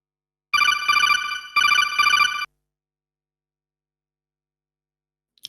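A video game communicator rings: a bright electronic tone in two quick bursts, each a trilling warble, then silence until a short faint click at the end.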